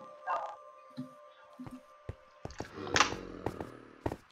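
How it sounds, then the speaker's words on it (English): Minecraft dogs bark, yip and whimper in a quick scatter of short calls that grow busier and overlap toward the end, fairly close and with no one talking. "Yeah, we have way too many dogs."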